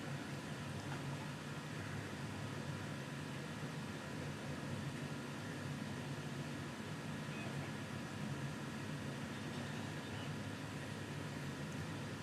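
Cooling fan of a Centauri Carbon 3D printer, a steady loud whooshing drone that holds evenly without a break.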